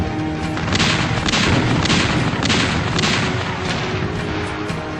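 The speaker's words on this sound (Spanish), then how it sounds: "los disparos se realizaban con todo el armamento disponible" Artillery fire from a warship in a naval battle involving the Huáscar, a rapid rolling series of heavy booms and blasts over a constant low rumble, loud and sustained, with no talking.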